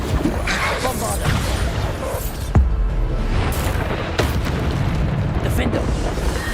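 Bombarda spell blasts in Hogwarts Legacy boom and rumble loudly and continuously, with sharper cracks at a few moments and a voice speaking over the noise.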